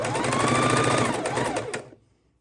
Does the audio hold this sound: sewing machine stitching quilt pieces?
yes